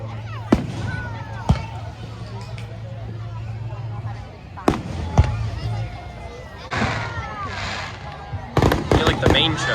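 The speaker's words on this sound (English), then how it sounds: "Got the fireworks on one side," Fireworks go off over a town on a summer evening, with sharp, loud bangs at irregular intervals and a quick burst of cracks near the end, over a low crowd murmur and chatter.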